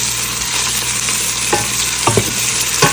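Onions sizzle steadily in a pan for daal makhani, a loud continuous frying hiss broken by a few scraping stirs of a spoon toward the end, with no voices.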